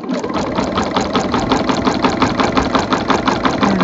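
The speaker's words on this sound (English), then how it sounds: "I'm just going to sew all the way through" A sewing machine with a walking foot quilts through layered fabric, its needle thumping in a fast, even, regular rhythm, loud and close, running without pause.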